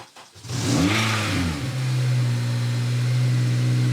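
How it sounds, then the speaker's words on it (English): Honda Civic Type R FN2 engine catches after a brief crank, rises through a quick rev, then settles into a steady, close idle with no voices. "So with the engine running"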